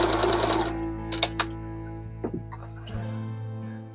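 A sewing machine stitches the lining of dungarees, with a close run of rapid mechanical whirring followed by a few sharp clicks and clacks as it stops and is adjusted, with no talking.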